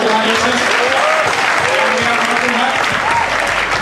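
A church congregation claps through a dense, sustained burst of applause during a service, loud and continuous, while a voice speaks over it.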